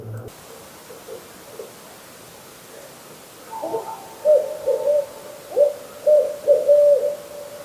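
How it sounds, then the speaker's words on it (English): An owl hooting in the distance at night by an old Minnesota cabin, a series of soft low hoots in short groups over a quiet background, with no talking. "We have an owl somewhere in the distance."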